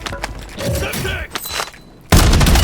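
Gunfire from the video game Warzone III: mixed shots and thuds under game voice lines, ending in a loud, dense burst of fire.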